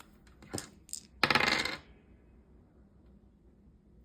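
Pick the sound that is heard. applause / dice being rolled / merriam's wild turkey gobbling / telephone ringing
dice being rolled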